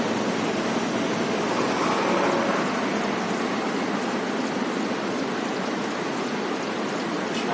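Water rushing after release from Bhakra dam into a river channel, a dense, steady broadband roar like heavy rain or a waterfall, continuous and without talk.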